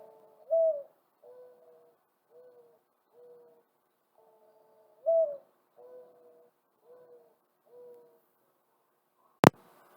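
A mourning dove coos softly in two repeated series of low, mournful notes, each opening with a rising coo, followed by a sharp click.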